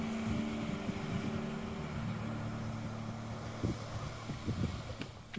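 Fishing boats working just offshore for running tuna near Monhegan Island, heard as a steady low engine drone from a distance under wind noise, with a few brief knocks and bumps toward the end.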